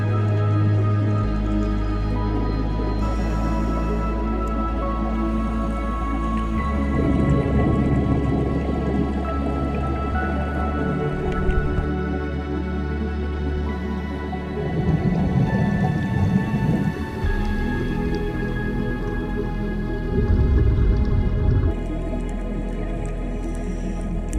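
A scuba diver breathing from a tank underwater off Ponta do Ouro, Mozambique, a deep muffled rumble broken by slow, regular swells of bubbling exhalation several seconds apart.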